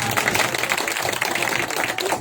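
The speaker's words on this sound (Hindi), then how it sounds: "जितने लोग कुर्सियों पे बैठे हैं अपने माता पिता के लिए जोरदार ताली स्वागत करें।" Enthusiastic applause from a seated audience at a public community gathering, dense continuous clapping that stays loud and even throughout.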